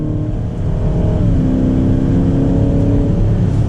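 A BMW Alpina XB7's 4.4-liter V8 accelerates hard in sport mode, a loud, steady engine roar heard from inside the cabin, with a slight shift in pitch partway through and no talking.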